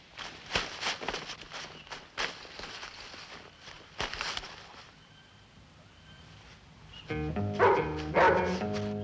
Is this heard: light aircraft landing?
no